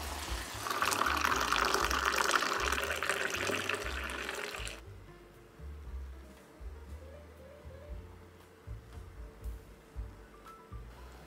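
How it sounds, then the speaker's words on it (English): Teh tarik poured from one container into another, a loud gushing stream of liquid for about five seconds that stops abruptly, followed by quieter drips and small splashes. "Repeat this process 5 times to get a smooth and creamy Teh Tarik."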